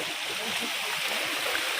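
Rainwater running along a trail during a two-day monsoon trek from Panhala to Pavankhind, a continuous broadband rushing wash without pauses, close and steady throughout.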